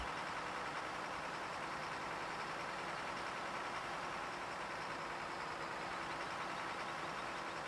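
Kamaz truck engine in Farming Simulator 15 pulling away after refuelling, a steady low diesel rumble with broadband hiss that holds level throughout, loud and alone with no talk.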